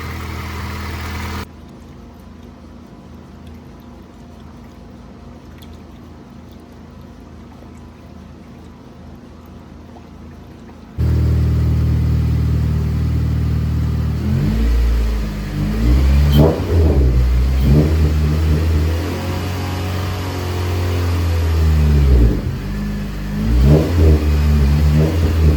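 Junkyard Honda K24 swapped into a 9th-gen Civic Si, running and smoking slightly from an oily downpipe: a quiet stretch, then the engine comes in loud and close, idling roughly with repeated throttle blips and revs.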